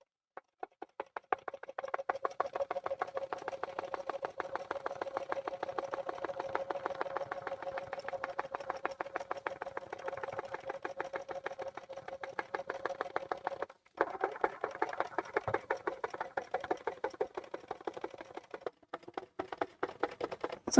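Sewing machine stitching along a centre line while quilting a mini quilt, a steady rapid needle clatter running continuously at close range with a brief pause partway through.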